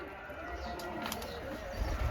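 Pigeons feed on scattered grain, giving faint cooing and soft rustling under a steady background hum, with a brief flutter of wings and some distant voices.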